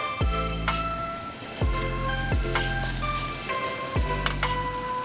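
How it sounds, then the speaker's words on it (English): Green onions, ginger and garlic stir-frying in a hot wok, a steady close sizzle with sharp tonal clinks of a metal spatula scraping the pan at irregular intervals, no voices. "fry everything a little bit"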